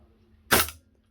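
Single sharp pop of a Cybergun CANiK TP9 airsoft pistol firing 0.2 gram BBs on green gas, a close, crisp shot with a short airy tail against a quiet background.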